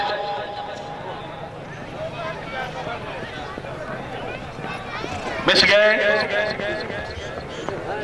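A racehorse gallops past at a rural race meet while an announcer commentates excitedly over a murmuring crowd, the hoofbeats faint under the talk, with a louder burst of noise near the end.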